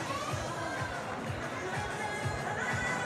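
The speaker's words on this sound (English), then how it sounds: "The crowd have been swelling, growing all afternoon as more and more have come into the stadium" Crowd murmur filling a climbing stadium in Munich at a European Championship boulder and lead final, a steady, dense wash of distant chatter with no distinct cheers standing out.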